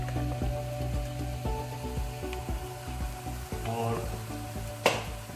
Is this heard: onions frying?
yes